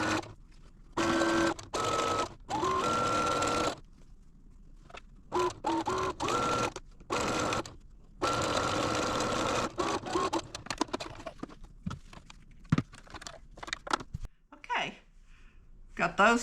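A home sewing machine stitches quilt block pieces for a beginner sampler quilt, running in short repeated bursts of steady whirring with pauses between, close and clear, with a few clicks and handling noises after.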